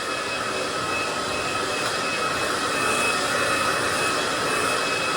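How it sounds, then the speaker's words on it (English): A hair dryer blowing while hair is brushed and dried, heard as a loud, close, continuous airy roar that holds steady throughout. "I'm always swirling the brush as I'm drying"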